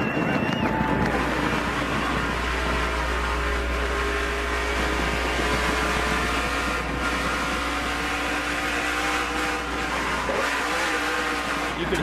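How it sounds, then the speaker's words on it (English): Race car engine roaring at steady high revs with the rear tire spinning, a continuous loud drone under heavy wind buffeting throughout. "You could hear the rear tire spinning."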